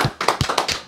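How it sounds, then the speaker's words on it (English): Sparse, uneven clapping from a small group, about eight distinct claps in a second, near and moderately loud, with no talking over it. "Round of applause for this man."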